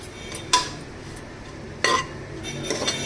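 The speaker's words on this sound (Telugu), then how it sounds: "నెయ్యి వేసి కలుపుతాం." A spoon scrapes and clinks against a pan while coconut sweet is stirred with added ghee, giving two sharp metallic knocks amid soft, quiet stirring.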